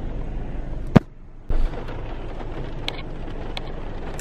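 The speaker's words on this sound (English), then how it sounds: "It's raining, like for real." Heavy rain pours down in a steady, dense hiss that fills the whole clip, broken by one sharp thump and a brief quieter gap early on.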